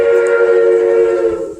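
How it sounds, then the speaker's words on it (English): A theme park train at Silver Dollar City sounds a loud, sustained steam whistle, a steady tone held for over a second before fading slightly, with faint background noise beneath. "That's a train."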